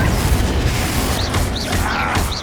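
A Confringo explosion spell blasting in Hogwarts Legacy, a dense rumbling burst with crackling debris and whooshing magical swishes, loud and continuous amid combat noise.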